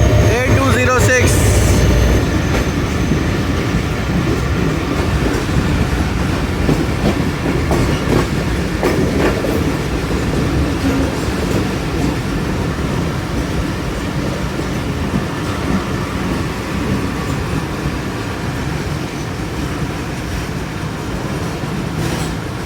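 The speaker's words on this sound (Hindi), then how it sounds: "मेहराबपुर पहुंच गई हमारी ट्रेन" A Fareed Express passenger train runs steadily on the rails toward Mehrabpur at dawn, with continuous loud rumble and clickety-clack of wheels, heard from inside and close, a brief louder burst at the start.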